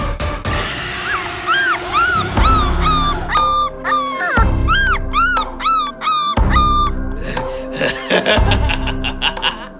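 A dog whimpers and yelps with loud, rising whines over and over while a crocodile attacks it at a shrine in Bagerhat. The cries are close and almost continuous.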